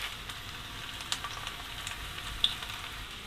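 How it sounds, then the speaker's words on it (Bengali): Carrots added to onions frying in a pan for chow mein, giving a continuous soft crackling sizzle with scattered faint pops and a light stir, quiet and close with no speech. "এখন আমি এতে দিয়ে দিব গাজরগুলো।"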